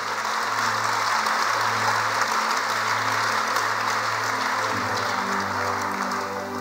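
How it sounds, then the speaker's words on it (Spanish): A church congregation applauds loudly and continuously, a dense wash of clapping over a sustained, droning keyboard chord. "Aplaude fuerte al Rey."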